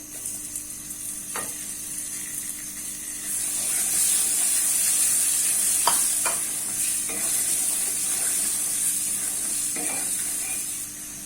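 Semolina toasting light brown in a pan for sweet halwa gives a steady, soft sizzling hiss. Now and then the spoon scrapes or taps the pan as it is stirred.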